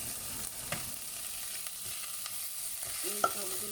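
Browned garlic and onion fry in oil in a pan with a faint, steady sizzle and occasional soft stirring taps.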